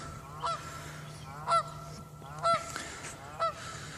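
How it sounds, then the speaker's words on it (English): Geese honk at a pond outdoors, four separate loud nasal calls spaced about a second apart over a faint steady background hum. "And you can hear the geese making a bunch of racket."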